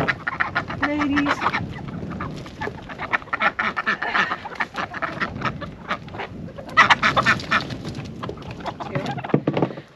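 Chickens and ducks on a homestead cluck and quack together in a busy, continuous chorus, close and moderately loud, with overlapping calls and no talking.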